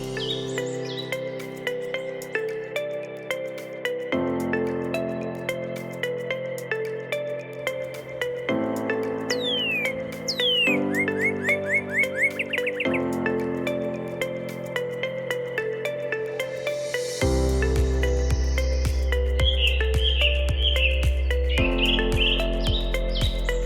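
Clear northern cardinal whistles, including slurred downward notes and short repeated chirps, heard over steady background music.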